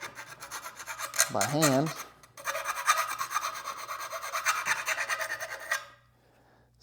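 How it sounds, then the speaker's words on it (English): A small hand file rasps back and forth deburring a metal transfer case part, close and fairly loud in rhythmic strokes, then stops into near silence. "let's try these tiny files that I have. And we can kind of get behind here and deburr this a little bit"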